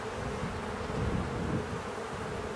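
A dense, steady buzz of many honeybees surrounds a hive being inspected in spring, loud and close as bees are shaken off a frame.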